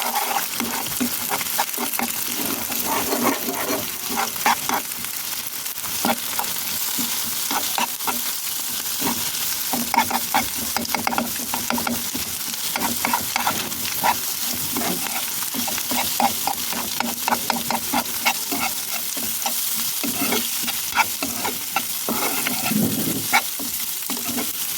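An egg frying in a pan alongside winter vegetables and noodles, with steady loud sizzling and frequent stirring scrapes running continuously throughout, no voices.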